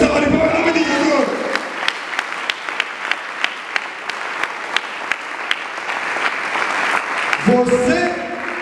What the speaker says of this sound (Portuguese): Uma salva de palmas em nome de Jesus.